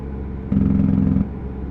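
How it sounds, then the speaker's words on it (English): Truck engine in American Truck Simulator, a low steady rumble that swells louder for under a second in the middle before settling back to a quieter hum. "This truck sounds so good."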